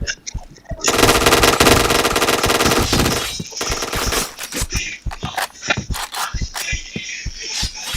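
Gunfire in the online shooter Point Blank, a long loud burst of automatic fire followed by a run of sharp separate shots and clicks, close and dominant, with no clear talk.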